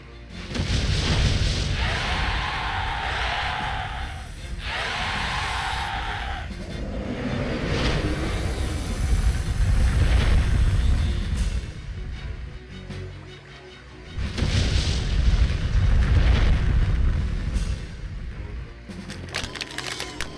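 Fire summon magic spell from the 1999 video game Septerra Core, a series of roaring, crackling bursts and booming blasts that swell and fade in waves, loud and alone with no talk.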